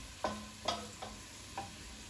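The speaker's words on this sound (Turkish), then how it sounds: "soğanlarım da kavrulmuş neredeyse" Onions sauté in a pan, a soft, quiet sizzle under four brief stirring scrapes spaced unevenly, close by with no voices.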